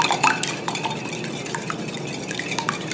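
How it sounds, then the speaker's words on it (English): Three large eggs whisked in a bowl, with rapid, light clinking and scraping of the whisk against the bowl in an uneven rhythm, close and fairly soft, with no voices. "now we just whisk them until it's nice and uniform"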